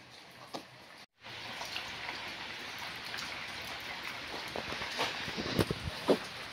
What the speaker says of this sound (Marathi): आता पाऊस पडायला सुरुवात झालेली आहे